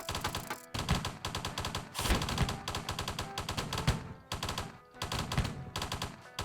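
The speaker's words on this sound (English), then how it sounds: "Let's put down some pressure cannons." Pressure cannons in the video game Hydraulic Empire fire in rapid machine-gun-like bursts, loud and dense, with short gaps between volleys and thumping impacts.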